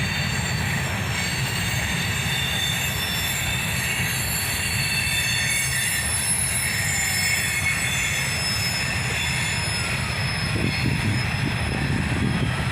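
A CSX freight train of covered hoppers rolls past close by, a loud continuous rumble of wheels on rails with steady squealing throughout.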